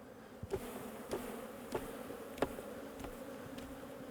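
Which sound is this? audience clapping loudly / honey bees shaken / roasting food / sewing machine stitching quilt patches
honey bees shaken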